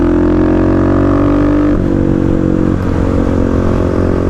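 Kawasaki KLX351 dirt bike engine idling and running close by off-road, a steady loud drone with a slight pitch dip partway through, no talking.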